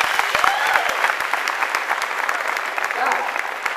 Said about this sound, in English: Let me hear a little applause here if you agree with that.